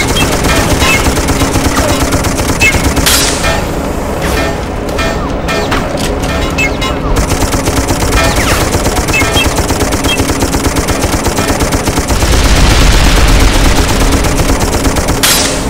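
Gunfire in a World War I battle in the video game Darkest of Days: dense, continuous machine-gun and rifle fire with sharp bursts and rumbling impacts, loud and close throughout, with occasional voices underneath.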